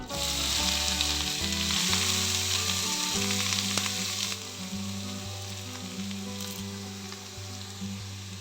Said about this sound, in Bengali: গাজরটা দিয়ে একটু নেড়ে নেব ঘিয়ের ওপরে